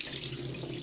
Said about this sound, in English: I'm going to wash my right hand just because I've just been using the potato